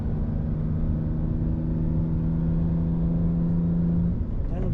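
BMW E90 with an aftermarket exhaust, heard from inside the car with windows up as a loud, steady droning engine hum that holds its tone before easing off near the end.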